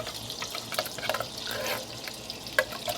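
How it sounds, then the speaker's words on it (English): Fresh blueberries spill into a cooking pan, a soft patter of small berries rolling and tapping against the metal in loose bursts, quiet and close, with one sharper knock near the end. "I'm going to start emptying my blueberries into this pan"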